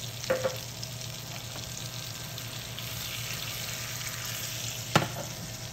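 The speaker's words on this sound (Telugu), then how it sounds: "దీన్ని ఇలా కలపండి, బాగా కలపండి." Tamarind chutney is stirred together with onion in a bowl: faint, soft mixing with a few sharp clicks of the spoon against the container and no speech.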